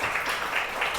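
Steady, dense applause from a church congregation at a Sunday service, loud and continuous, in honor of the teachers, with no voices standing out.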